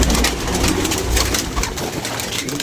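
A freshly caught pigeon coos softly close by, its low repeated calls sitting under a steady, noisy background.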